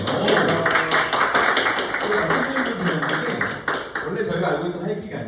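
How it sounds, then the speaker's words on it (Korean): Audience applause in a lecture room after a correct answer to a sitcom quiz, a dense steady patter of many hands clapping throughout, fairly close, with voices murmuring underneath. "정확합니다. 박수 한번 주세요."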